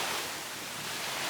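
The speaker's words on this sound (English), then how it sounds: "I really wasn't expecting it to be this windy" Strong wind buffets the microphone at a Lake Michigan beach, a steady broadband roar mixed with surf-like rushing that holds for the whole stretch with no voices.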